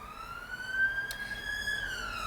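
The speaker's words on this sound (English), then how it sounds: "you're going to get a siren as well now" An emergency vehicle siren passes outside, heard from inside a warm home nail room as a faint, distant wail that rises slowly and holds.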